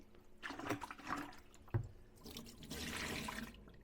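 Cotswold wool fleece locks rinsed in a tub of water, with splashing, sloshing and dripping in uneven bursts, fairly close but faint.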